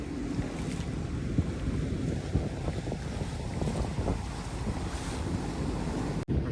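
A homebuilt sailboat cuts across open ocean, with constant wind buffeting the microphone, rushing waves and hull splashes at close range, and no talking.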